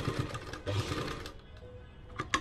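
A sewing machine stitches a zigzag along a salwar bottom, a short close burst of rapid mechanical chatter that eases slightly midway and picks up again.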